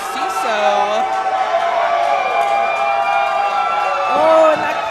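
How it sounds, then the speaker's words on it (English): A wrestling crowd roars for Marco Narciso as he enters a match, a sustained wall of cheering and whoops with a swell near the end, while a commentator talks over it. "Oh, and the crowd is going nuts for Marco."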